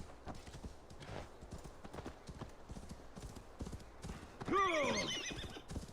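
Horse hooves clip-clop steadily in Assassin's Creed Valhalla, then a loud, close neigh rises near the end, with faint speech in the background.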